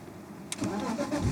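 A car engine boosted by an ANCEL BS200 jump starter catches after a brief crank and settles into a rough, close running rumble.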